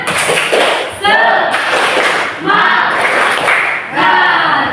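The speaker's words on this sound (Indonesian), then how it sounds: "Tepuk semangat" A classroom group performs tepuk semangat, loud rhythmic clapping in bursts with shouted chanting voices between the claps, close and energetic.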